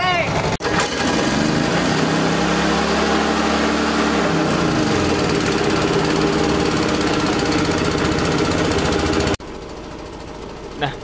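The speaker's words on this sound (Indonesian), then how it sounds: "baling-balingnya pun bebas dan perahu melanjutkan perjalanan" A loud, steady tour boat engine drones close by with a constant mechanical hum in a mangrove forest in Surabaya, then abruptly cuts off near the end.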